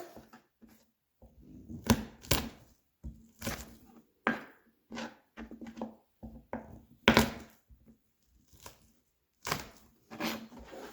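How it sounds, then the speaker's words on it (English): Garlic cloves crushed in a handheld garlic press for Filipino chicken tinola: a run of short, crunchy squeezing bursts, close and fairly loud, arriving in irregular clusters with brief quiet gaps between them. "I'm going to start by pressing my garlic"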